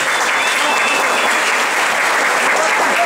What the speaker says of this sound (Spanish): pedirles a ustedes un fuerte aplauso para Arani Wonka